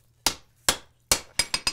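Hammer blows on hot iron being shaped around a half inch drift at a forge for a fleur-de-lis strap hinge: three spaced ringing strikes, then a quicker run of four, close and loud.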